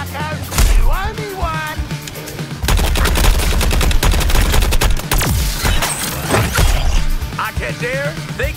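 Rapid bursts of video-game gunfire from Suicide Squad: Kill the Justice League crackle loudly and continuously, with dense automatic volleys mixed with whooshing effects and voices talking over the action.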